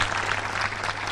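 Audience at a Bali peace gathering breaks into applause, a brief, even burst of many hands clapping at moderate volume.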